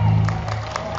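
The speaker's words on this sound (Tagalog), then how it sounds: "Palakpak naman!" Audience at a Philippine Independence Day live event applauding and cheering: a short, loud burst of crowd clapping with some whoops over a steady low hum.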